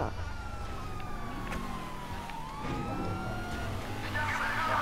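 Police car sirens wail steadily in a video game, sweeping up and down over a constant rumble of traffic or engines, loud and continuous with a faint voice underneath.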